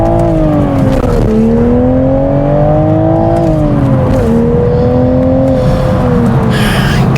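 Toyota Supra MKIV with a 6-speed manual heard from an exhaust-mounted mic while driving, a loud continuous engine drone rising and falling in pitch through throttle changes and shifts.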